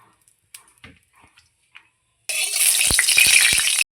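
Mustard oil sizzles loudly in a hot wok, a sudden steady hiss that starts after a few faint clicks and continues without a break until the end.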